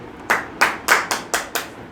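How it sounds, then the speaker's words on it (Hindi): Six sharp, loud hand claps in a steady rhythm, close and distinct, from a classroom audience joining in with the teacher. "ताली बजा दीजिए मेरे हाथ में, जोर से था बजाइए"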